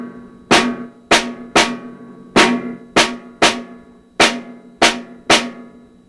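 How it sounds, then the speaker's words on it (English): Left hand plays an independent snare drum pattern alone on a drum set, a sequence of nine crisp, evenly spaced snare hits with bright rattling decay, close and loud, no talking. "Figure 42 is an independent snare drum pattern that's to be played with the left"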